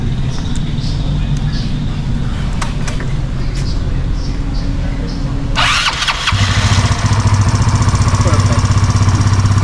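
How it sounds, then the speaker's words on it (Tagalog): A Yamaha Mio motorcycle with a 160cc engine build and stock exhaust pipe rumbles at idle, then starts up and settles into a louder, steady running idle, close to the mic. "kailangan natin marinig yung makina niya kung okay nga ba yung pagkakagawa natin"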